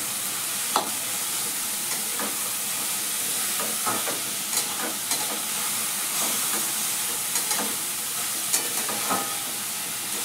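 Radish leaf bhaji with garlic and chilli frying in a pan, a steady hissing sizzle broken by scattered scrapes and taps as it is stirred, close and continuous with no speech.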